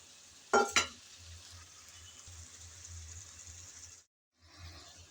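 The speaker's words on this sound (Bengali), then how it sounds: "কাঁকরোলগুলো দিয়ে নেড়ে চেড়ে একটু কষিয়ে নিলাম।" Teasel gourd pieces are stirred into a frying sea fish curry. Two sharp clattering spoon strokes come first, then a steady soft sizzle that stops briefly and starts again.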